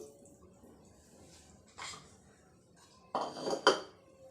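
Chicken bones dropped into a pot holding a litre of water on a stove flame, heard as a faint clatter and then two sharper clunks of bones hitting the metal pot near the end.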